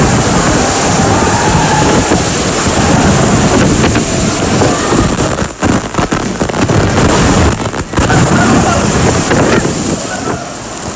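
Storm surge waves from Super Typhoon Haiyan in the Philippines arrive as a loud, continuous roar of churning water and surf, overwhelmed by heavy wind buffeting the microphone, with a few brief dips in the noise.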